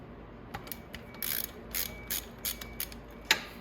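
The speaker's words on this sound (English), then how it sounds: "So if you have a 15/16 wrench or ratchet, it's right down directly underneath here." A ratchet wrench clicking on a large nut under a 250cc chopper motorcycle, with several short bursts of ratcheting and a sharper knock near the end, close up with no talking.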